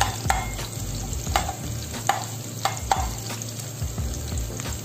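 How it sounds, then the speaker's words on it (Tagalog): Minced garlic sautéing in hot cooking oil for a pork ribs Bicol Express with eggplant, making a steady close sizzle with regular scraping strokes of a utensil stirring the pan. "Sautéin lang hanggang sa maluto ang ating garlic."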